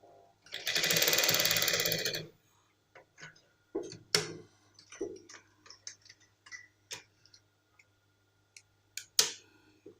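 Sewing machine stitching a trouser pocket, with a short whirring run followed by scattered clicks and ticks of the mechanism, quiet and intermittent.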